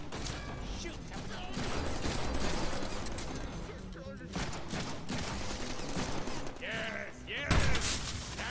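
Gunfire in a Deadpool video game against a four-armed zombie, with dense bursts of shots and mechanical clatter running through the whole stretch, mixed with game effects and talk.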